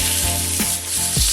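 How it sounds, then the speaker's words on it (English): A steak sears loudly in a hot pan right after being turned, a dense, steady sizzle with a few brief stirring or scraping touches. "Okay, I'm going to turn the steak round."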